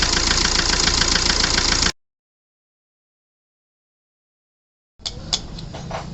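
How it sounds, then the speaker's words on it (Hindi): A Hyundai i20 diesel engine runs with a steady knocking rattle, loud and close, then cuts to silence before harsher mechanical clatter and ticking return. "ये नॉकिंग टाइप जो साउंड आ रही है हमारा, टक टक टक टक"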